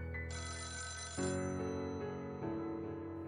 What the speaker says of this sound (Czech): zaskočilo mě zazvonění telefonu.